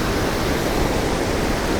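Loud, steady rush of white water pouring down a roughly 80-foot waterfall at Kalmandavi near Jawhar, a dense unbroken roar with no pauses and no voices.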